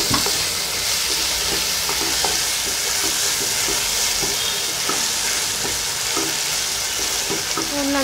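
Boiled pasta stirred into a frying pan of sizzling spiced masala with chilli powder, a steady close frying hiss with scattered scraping and clinking of the spoon throughout.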